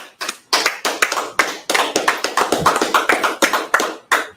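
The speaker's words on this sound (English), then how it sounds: "let's clap it up" A small group claps at a class gathering: scattered, uneven bursts of hand claps come close and fairly loud, with short gaps between them and no talking over them.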